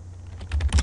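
A short burst of keys being typed on a computer keyboard to enter a file name, quick soft clacks building to a slightly louder flurry at the end, close up and without talk.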